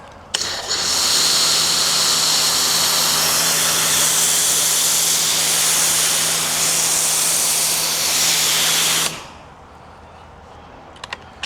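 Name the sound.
pressure washer running with foam cannon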